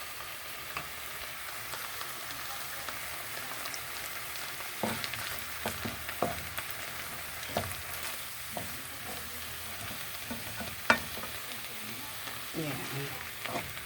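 Beef steak frying in melted butter in a pan, a soft continuous sizzle with scattered pops and a few sharper spatters, moderately quiet and close, with one brief spoken word.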